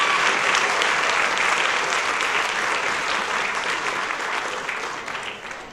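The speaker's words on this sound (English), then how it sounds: "Please give them a round of applause." An audience applauds the sponsors at the Celebrate Morgan Hill 2012 gathering, a dense, steady round of clapping from many hands that holds strong for nearly six seconds and then begins to taper slightly.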